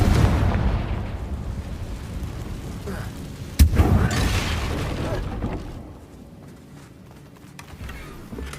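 A Confringo blasting spell fires in the Hogwarts Legacy video game near a damaged bridge, with one loud sharp blast partway through over a dense rumbling game soundscape that fades toward the end.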